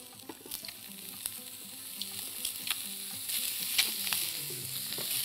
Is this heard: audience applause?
no